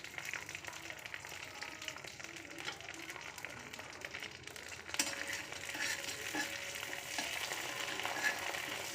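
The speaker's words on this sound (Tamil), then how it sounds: "சோம்பு பொரிஞ்சதும் நம்ம பிரிஞ்சி இலை போட்டுருவோம்." Fennel seeds crackle and splutter in hot oil for an egg kuzhambu, a dense close sizzle that jumps louder midway as a bay leaf drops into the pan, then keeps frying steadily.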